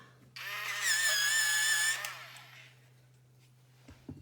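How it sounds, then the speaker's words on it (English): Colored pencil turned in a motorized pencil sharpener, a loud whirring grind of about one and a half seconds that then winds down, followed by quiet and a few small clicks. "I'm sorry you will hear a bit of noise when I use my sharpener"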